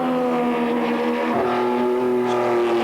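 A Ferrari 250 LM race car runs at the Montlhéry circuit during a classic car event, its engine holding a steady loud drone with a brief shift in pitch midway, alone with no talk.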